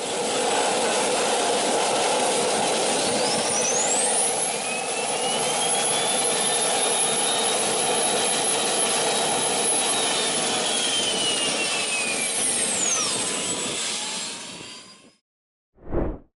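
Jet engine of the MTT Turbine Superbike Y2K motorcycle, a loud sustained turbine whine and roar with shifting tones, cutting out near the end before a brief final burst.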